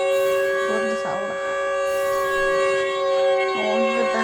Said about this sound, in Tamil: சைரன்